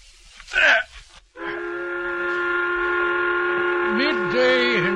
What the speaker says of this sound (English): The whistle has blown.